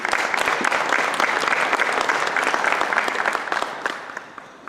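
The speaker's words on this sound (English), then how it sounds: "I would like a big round of applause for the Premier and his team" A large crowd claps in sustained, dense applause that holds steady and then begins to fade at the end.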